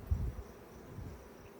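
Agitated honeybees hum inside a Langstroth hive being inspected, a low, steady drone that swells briefly at the start and then stays level and close.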